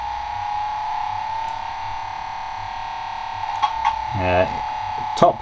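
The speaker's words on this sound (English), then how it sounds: "That noise you can hear is damage happening to your car." A steady engine drone runs throughout, then a burst of crunching, rattling impacts near the end as a car takes damage in the Amstrad CPC game Stunt Car Racer.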